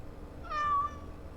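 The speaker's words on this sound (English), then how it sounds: "I love how the meow comes from, Justice." A cat meows once in Dragon Age: Awakening, a clear, mid-pitched mew that rises and fades over about half a second above a low background hum.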